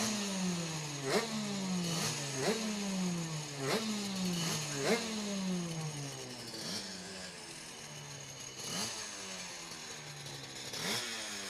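Superkart racing engines at Cadwell Park circuit during a British Superkart Championship round, a loud buzzing two-stroke drone rising and dropping in repeated shift sweeps, several karts overlapping over a steady engine hum.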